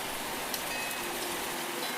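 A heavy downpour of rain, a steady, dense hiss of falling water that stays even and unbroken from start to finish.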